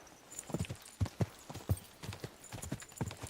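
Hooves of a horse named Pebbles clop in quick uneven clusters of beats in Kingdom Come Deliverance 2, clear and close with faint ambient sound behind.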